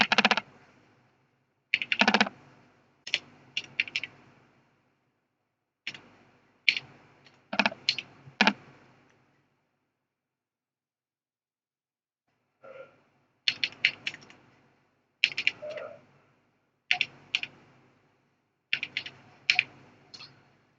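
Bursts of keystrokes on a computer keyboard while entering a CNIC number into an FBR online form, fast clustered clicks in several runs separated by short pauses, close and clear with no talking.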